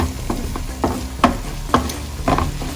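Spicy Kerala-style beef fry mixture with curry leaves being stirred in a pan, with a series of distinct scraping strokes at an uneven rhythm over a soft frying sizzle, close up and with no talking.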